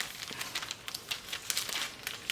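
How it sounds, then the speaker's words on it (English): Clear plastic poly bags crinkle in quiet, irregular bursts of rustling close by, handled continuously for a couple of seconds with no talking. "So I do have these like little poly or these clear plastic bags."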